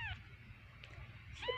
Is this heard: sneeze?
no